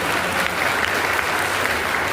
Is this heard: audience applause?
yes